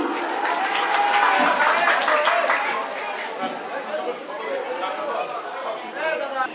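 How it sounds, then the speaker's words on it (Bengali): Audience at a regional singing audition applauding a contestant who advances to the next round, a sustained wash of clapping and crowd chatter that holds steady, then eases slightly while talk continues over it. "সবাই একটা করতালি দিব ওর জন্য।"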